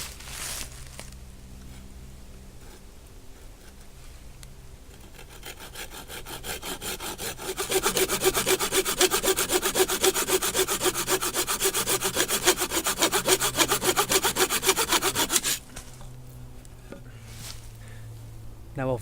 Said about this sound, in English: chamfer off the edges of that to give it a point to help it drive into the ground easier